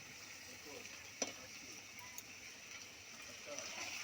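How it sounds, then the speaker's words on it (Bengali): Bombay duck (loitta) fish frying in a pan while being stirred: a steady close sizzle throughout, broken by a sharp utensil clink and a few softer scraping knocks. "দেখুন আমরা লোটে মাছটাকে ভালোভাবে নাড়িয়ে চাড়িয়ে নিচ্ছি"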